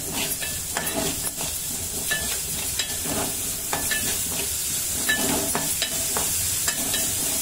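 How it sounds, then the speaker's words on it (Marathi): Shredded cabbage and carrot sauté in a hot pan for a Veg Manchow soup, a steady loud sizzle with repeated scraping stirs and light clinks of a spatula against the metal, no voices. "जे कोबी आणि तुमचं जे गाजर कापून घेतलेलं आहे ते याच्यात सोटे करायचं आहे"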